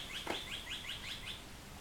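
A small bird chirps a quick series of about six rising tweets, faint and somewhat distant, against a quiet background.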